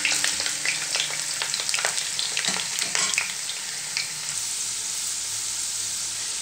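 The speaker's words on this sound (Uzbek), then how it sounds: "keyin tovuq kartoshka qizarmaguncha qovurishni" Chicken and potato pieces fry in a pan with a continuous crackling sizzle, spiked by sharp pops and stirring scrapes early on, then settling into a steadier hiss; no one speaks.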